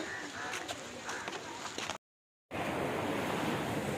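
Waves break and wash along Sinquerim Beach in Goa, a steady close roar of surf with faint voices in the background, interrupted by a brief moment of silence before the surf resumes.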